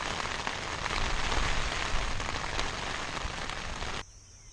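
Heavy rain downpour drumming on tents at a campsite, dense, loud and continuous hiss with pattering drops, cutting off abruptly near the end.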